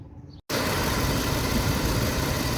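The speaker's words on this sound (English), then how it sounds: "I'm going to go and start the engine and show you what to look for" A Toyota 4.7-litre V8 cranks and catches almost at once, then settles into a loud, steady idle that runs on with no voices.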